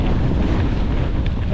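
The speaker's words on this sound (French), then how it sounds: "Travers champ, vent de face, grosse rafale de vent." Strong gusty headwind buffeting a cyclist's microphone while riding across open fields in northern France, a loud continuous roar of wind noise with no pause.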